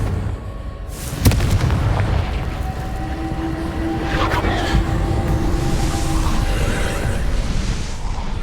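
A Confringo explosion spell from Hogwarts Legacy detonates with a sharp boom, followed by a long, rumbling, crackling tail over a steady game-world background.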